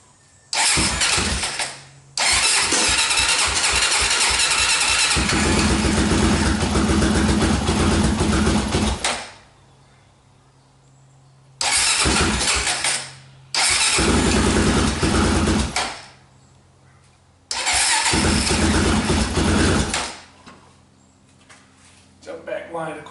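A Honda 400EX ATV engine runs in loud, sustained bursts with a pinging knock, cutting out and restarting several times, separated by short near-silent gaps.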